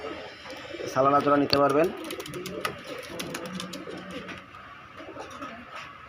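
A pair of pigeons, male and female, coos in low soft bursts nearby while someone talks over them.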